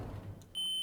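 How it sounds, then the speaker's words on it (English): A short electronic elevator door-closing warning tone sounds near the end, steady and clear, following a low mechanical rumble. "Why is it already beeping at close?"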